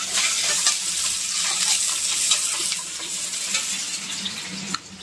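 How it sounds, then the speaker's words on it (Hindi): Sliced cabbage and capsicum are sautéed in a pan after fried onions for veg chowmein, giving a loud, continuous close sizzle with scraping stirs throughout and a brief knock near the end, with no voices. "प्याज भूने के बाद डाल दे रहे शिमला मिर्ची"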